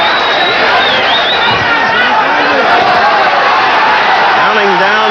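Boxing crowd at the Serrano vs. Valdez world light welterweight title fight, a loud steady roar of cheering and shouting near the end of round four, with a commentator speaking over it throughout.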